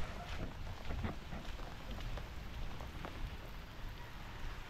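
Steady rain patters on surfaces nearby, a dense continuous hiss with scattered louder drops, fairly faint and with no voices.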